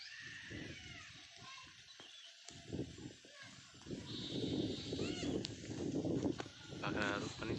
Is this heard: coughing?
no